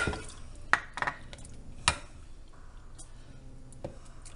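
Roasted tomatoes spooned into large glass canning jars from a pot: scattered sharp clinks of glass and metal, a few close knocks among quieter scraping and handling.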